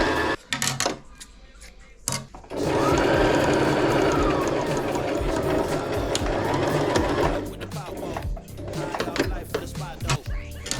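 A sewing machine stitches suit fabric for a hoodie, running in a fast, close, continuous whir for several seconds, with short stops and handling sounds of fabric before and after.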